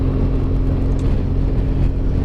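A BMW motorcycle riding on a road, with a Kawasaki following behind, gives a loud, steady engine drone and wind rush that hold constant and close throughout.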